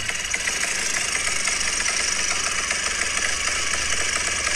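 A motorcycle engine idles nearby with a steady, even mechanical chug and faint knocking vibration, constant and unbroken.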